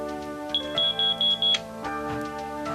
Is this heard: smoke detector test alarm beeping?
yes